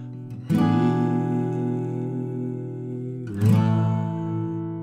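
An acoustic guitar plays the final outro chords of a song, ending on G: two slow strummed chords, one at the start and another about three seconds later, each ringing out at close range with no voices.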